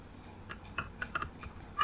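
Light typing on a computer keyboard, a short run of soft, irregular key clicks heard close and faint against a quiet room, with no voice present.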